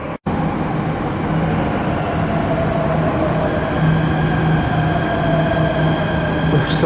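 A Jakarta MRT metro train pulls into the station, its steady low rumble and rising electric whine filling the platform at close range without a pause.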